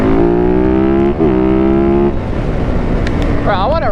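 A custom 130 hp Yamaha Banshee racing quad engine revs loudly and close, its pitch climbing and holding in sustained pulls before breaking into rougher roar, with a voice talking briefly near the end.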